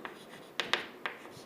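Pen or marker writing an equation by hand during a math lecture, faint close scratching strokes with a few brief taps, quiet and without speech.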